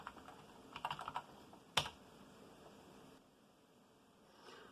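Brief bursts of key presses on a Mac Mini 2009 setup keyboard, a quick cluster of soft clicks followed by one sharper tap, fairly faint against a quiet room hiss with no talking.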